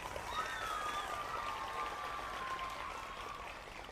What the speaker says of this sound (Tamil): அப்போ இன்னொரு தடவை உங்களுக்காக தட்டுங்க.